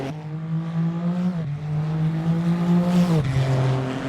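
A Scuderia Glickenhaus SCG003C endurance race car with 530 horsepower roars on track, its engine holding a steady loud drone, dipping briefly as it shifts twice, then pulling on again close by.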